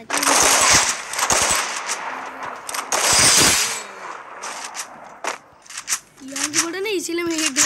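Rapid automatic gunfire from an online shooter game, loud bursts of rattling shots coming in and out over several seconds, with people talking over the action.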